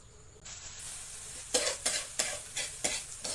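Egg fried rice stir-fried in a pan, steady close sizzling with about five rhythmic scraping strokes of a spatula against the pan, moderately loud and without talk.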